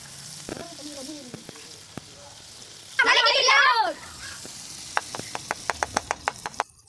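Quail gravy hits a hot pan with a loud burst of sizzling frying lasting about a second, followed by scattered clinks and scraping taps of stirring; voices talk around it.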